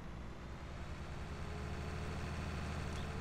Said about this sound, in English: I love the engine sound though.